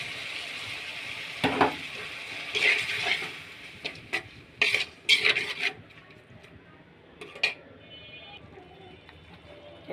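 Small shrimp hit a pan of garlic, onion and green chili with a soft sizzle, broken by stirring scrapes and clatters, and a voice talks at times.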